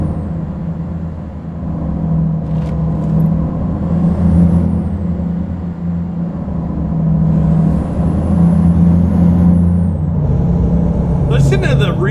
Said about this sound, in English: Listen to the reverb from this engine.